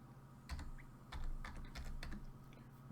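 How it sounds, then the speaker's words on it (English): Clicking keystrokes on a computer keyboard come in an irregular run of quick taps, close and quiet over a faint steady hum. "So I'm just going to type in a string."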